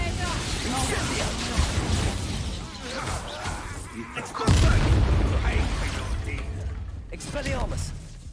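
Incendio fire spell bursting in Hogwarts Legacy combat, a loud booming whoosh around the midpoint over dense battle noise, with a voice speaking through the clash.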